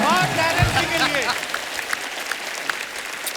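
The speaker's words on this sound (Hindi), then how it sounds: "एक बार जोरदार तालियां सोनाली जी के लिए, गीता जी के लिए और टेरेंस जी के लिए" A studio audience claps loudly for the judges on a comedy talk show, a dense burst of applause that thins and fades over a few seconds with scattered claps trailing off.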